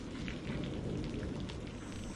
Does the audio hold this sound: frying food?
no